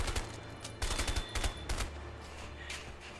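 Rapid bursts of gunfire from the co-op video game A Way Out, a quick string of sharp shots in the first two seconds, then a steady low hum with fainter pops, fairly quiet overall and with no talking.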